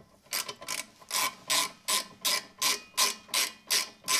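Hand ratchet tightening brake caliper bracket bolts on a Chevy Sonic, with about ten rapid bursts of loud, close clicking in a steady rhythm and no talk.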